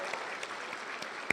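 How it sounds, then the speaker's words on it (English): Applause at the Iowa City Chamber of Commerce 2018 banquet greets State Senator Bob Dvorsky: a steady, dense patter of many hands clapping from a large crowd, with no one speaking over it. "he deserves a huge round of applause"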